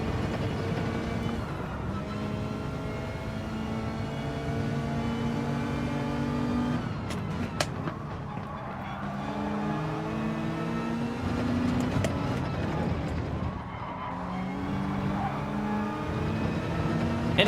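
A Mazda race car engine in Gran Turismo 7 climbs through the revs in long rising sweeps, pausing at each gear change before winding up again, a steady loud drone with no speech over it.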